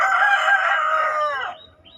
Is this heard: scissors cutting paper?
no